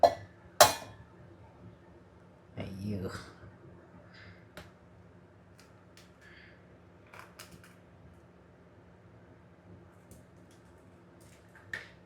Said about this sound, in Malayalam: മുട്ട പൊട്ടിക്കുമ്പോൾ സൂക്ഷിക്കുക